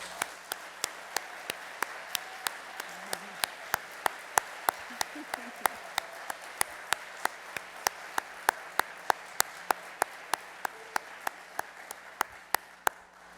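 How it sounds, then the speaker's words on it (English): Sparse applause for award recipients at a college awards ceremony, heard as a steady run of separate, fairly faint claps from a few people over a quiet room for about thirteen seconds. "Will all of these award recipients please stand for a round of applause?"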